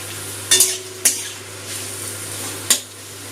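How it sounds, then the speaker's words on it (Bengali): Chopped onions, two large ones, dropped into a hot pan and stirred, with a few sharp clattering scrapes over a steady low sizzle, close and alone. "দুটো বড় সাইজের পেঁয়াজ কুচি দিয়ে দিলাম"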